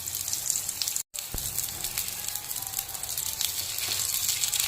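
Rava paniyaram, small semolina snacks, frying in a pan on a stove turned down to a low flame, giving a steady broadband sizzle with a brief dropout near the start.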